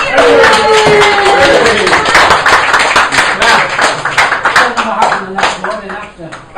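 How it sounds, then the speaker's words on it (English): A crowd claps and applauds steadily, loud and close, with voices mixed in under the clapping before it thins out near the end. "a round of applause"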